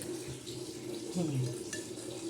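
Soft sloshing and trickling of water as vegetables are rinsed in salted water, quiet and close.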